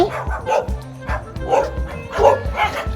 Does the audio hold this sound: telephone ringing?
no